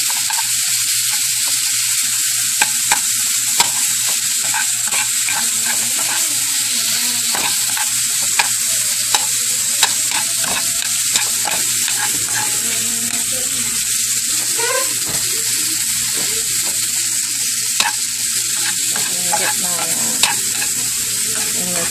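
Lemongrass beef keeps sizzling and frying steadily in a hot pan after the heat is switched off, a continuous close hiss with occasional small pops and stirring scrapes, no talking.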